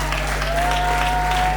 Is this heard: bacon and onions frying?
no